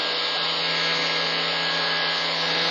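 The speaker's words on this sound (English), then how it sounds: "So now we are going to turn on the blower" A blower fan in a forced convection lab setup runs with a steady, loud whooshing hum and a faint constant whine, unchanging across the short stretch.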